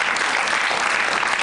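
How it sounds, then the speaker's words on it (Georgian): A television studio audience applauding on a Georgian late-night talk show, a dense, steady wash of many hands clapping close and loud, with no voices heard. "თქვენი აპლოდისმენტები"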